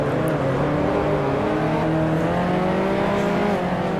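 A 1955 Formula One race car engine roars in the Grand Prix Legends racing game at the Argentine Grand Prix, a loud, close, steady buzzing drone whose pitch wavers and rises slightly throughout.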